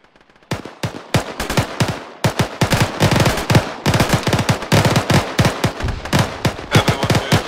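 Rapid gunfire in the military video game Operation Noble Eagle, a loud sustained volley of sharp bursts and single shots crackling in an uneven rhythm for several seconds, no voices.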